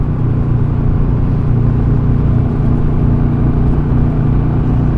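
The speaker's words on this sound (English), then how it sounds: "Very willing little engine." A Royal Enfield Super Meteor 650 motorcycle cruises with a steady, loud low engine drone and constant road and wind rush, holding an even pitch without revving.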